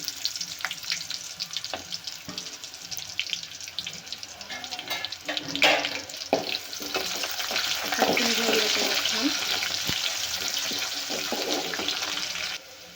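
Chopped onion dropped into hot oil for a spicy mutton curry, sizzling steadily and growing louder partway through, with water running and light stirring noises mixed in.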